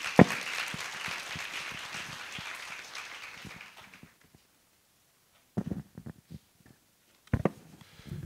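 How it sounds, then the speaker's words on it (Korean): An audience at a Korea University leader lecture series applauds to welcome an international finance ambassador: steady hall clapping fades out after about four seconds, followed by a few scattered knocks and shuffles. "대사님을 큰 박수로 맞이해 주시기 바랍니다"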